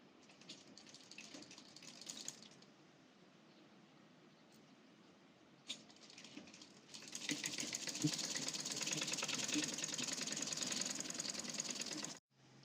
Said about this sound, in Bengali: হাতার মুহুরি সেলাই দিয়ে দিচ্ছি।